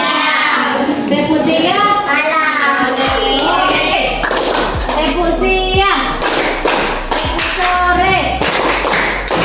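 Classroom group clapping in rhythm during a clapping ice-breaker game, sharp repeated claps and taps in patterned bursts, mixed with children's voices and an adult leading.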